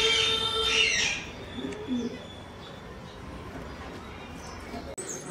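Pigeons kept at a home coo in soft, low repeated calls, close by, with a few chirps and a brief clatter near the end, under a voice talking.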